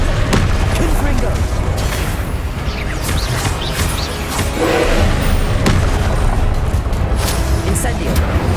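Confringo explosion spells in the Hogwarts Legacy video game go off as repeated booming blasts and crashes within a dense, noisy combat mix, with voices heard throughout.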